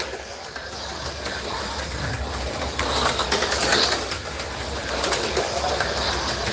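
An AFX G Plus HO slot car runs on a freshly set-up track with a steady high whirring buzz, close and continuous, swelling briefly louder midway with no talk.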